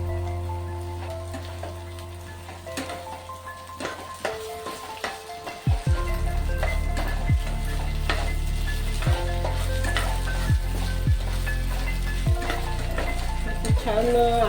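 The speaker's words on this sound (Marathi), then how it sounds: "आता त्यामध्ये आलं लसूणची पेस्ट टाकून घेते जरा, ही 2 मिनिटं भाजते" Ginger garlic paste frying with browned onions in a pan, a loud, close sizzle that jumps up sharply partway through and then crackles steadily, with scattered spatula taps and a pause of quieter rustling before it.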